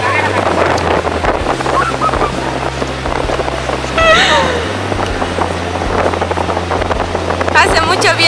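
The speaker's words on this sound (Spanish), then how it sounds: "Hace mucho viento, chicos" Strong gusts of wind buffet the microphone on a beach at Atacames, with a low, steady rumble and roar running throughout and voices talking over it.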